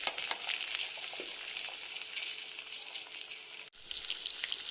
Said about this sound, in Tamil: இப்போ நம்ம எடுத்து வச்சுக்க 3/4 கப்பு சின்ன வெங்காயம் போட்டு நல்லா வதக்கிக்க போகிறோம்